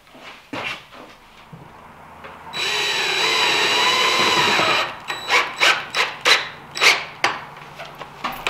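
A power drill drives screws into a wooden cabinet box. A steady, loud whirring run is followed by a series of short, rhythmic bursts as the screws seat, close up with no talk.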